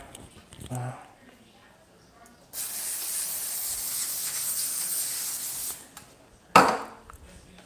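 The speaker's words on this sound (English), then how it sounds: "So I'm going to spray it with the pan." Cooking spray hisses onto a pan in one sustained burst of about three seconds, followed by a short second spritz, loud and close, with brief sounds of handling before it.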